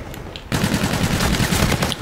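Rapid automatic gunfire from Call of Duty: Infinite Warfare multiplayer, a dense continuous burst that starts abruptly after a brief quieter moment and stays loud and sustained to the end.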